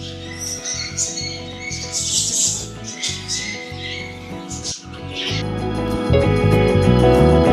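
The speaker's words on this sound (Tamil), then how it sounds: "ஃபின்ச்சஸ்." Small finches kept at a mini zoo on the ECR near Chennai, chirping and tweeting in busy overlapping calls, fairly close and loud against steady background noise.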